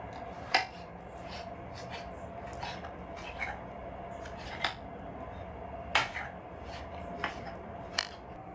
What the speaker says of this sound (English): The final ingredient I forgot to mention is a fresh tomato. I'm going to cut that up into wedges.